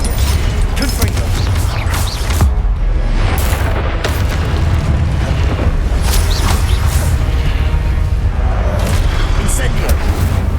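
Repeated explosive Confringo spell blasts in the video game Hogwarts Legacy during Percival Rackham's Trial, heavy booming impacts rolling continuously over dense combat noise, with a voice talking over them.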